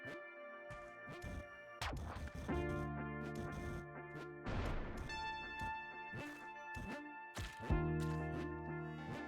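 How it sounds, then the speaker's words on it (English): Explosions in the video game Bloons: a few heavy, crashing bursts punch through continuous tonal game music, with the loudest blasts spaced a couple of seconds apart. "Heard 2 explosions."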